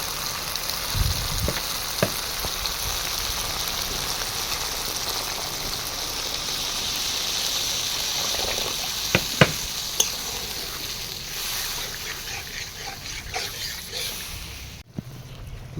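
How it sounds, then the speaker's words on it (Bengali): Spiced paste for an oily, chili-hot fish curry sizzles loudly and steadily in hot oil as liquid is added, with a few sharp spits and stirring clicks over a continuous frying hiss. "মশলা থেকে তেল ছাড়তে শুরু করেছে এখন পরিমাণ মতো ঝোলটা অ্যাড করে দেবো"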